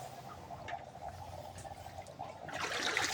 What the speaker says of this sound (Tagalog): Apaw na ang tubig pala talaga.